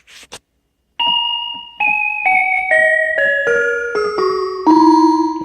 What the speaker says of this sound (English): Celesta. I really love the sound.